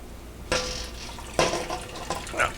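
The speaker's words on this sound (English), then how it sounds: "We're going to let these things drain off as much as we can." Liquid trickles and splashes as wrapped brewing grains drain for a home-brewed Scottish Export 80 ale, coming in a few irregular bursts of dripping and pouring, fairly close with no talk.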